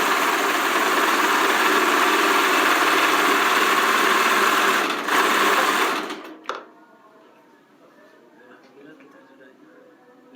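A ginger grating and juice-pressing machine runs with a loud, steady motor whine for about six seconds, then shuts off abruptly with a clunk, leaving faint background noise.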